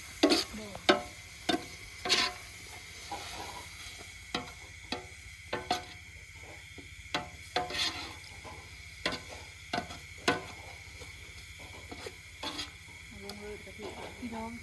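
Red curry paste being stirred and toasted in a pan before coconut milk goes in, for an overnight housewarming feast. Close, irregular scraping strokes over a low sizzling hiss, with faint voices in the background.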